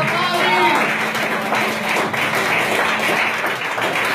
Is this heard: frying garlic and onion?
no